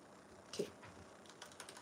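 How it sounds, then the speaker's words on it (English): Computer keyboard typing heard faintly during a livestream, a few soft, scattered keystroke clicks close to the microphone. "you guys get to hear my keyboard"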